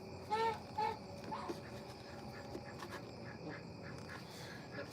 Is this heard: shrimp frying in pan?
no